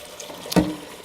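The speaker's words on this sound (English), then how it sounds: "now we're going to go ahead and fill this up for about 1 inch over the beans" Water pours from a tap into a pot of beans in a home kitchen, a brief splashing burst that swells and then settles into a softer running trickle.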